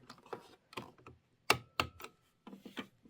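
A presser foot sole pops off a sewing machine with a series of sharp, close mechanical clicks and snaps separated by short quiet gaps, fairly soft overall and with no talk.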